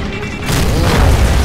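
A grenade explodes in a video game, a loud, sudden deep boom that swells into a sustained rumbling roar and fills the short stretch without any talk.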